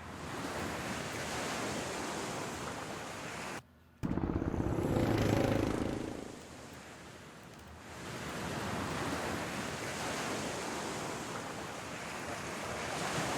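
Ocean surf washes in broad, noisy swells with wind, cut off abruptly for a moment, then returning loud before easing back to a steady roar.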